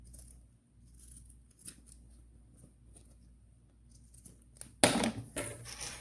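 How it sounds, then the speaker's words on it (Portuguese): Scissors snipping through fabric scraps while making a pen drive holder, a few faint soft cuts early on, then a louder burst of close cutting and handling near the end. "Aqui, a gente passa a tesoura nela todinha."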